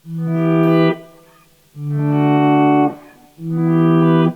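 Three sustained guitar notes, heavily processed with a thick, buzzy distortion and chorus shimmer, each swelling and cutting off with short gaps between.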